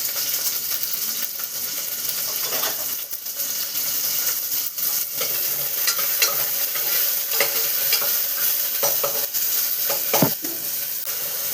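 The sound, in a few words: drumsticks added to hot oil tempering, frying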